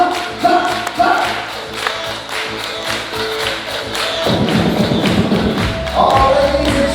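Reception guests clapping hands in time to a DJ's beat, rhythmic claps and thumping music filling a loud party room, with the beat growing denser and heavier partway through.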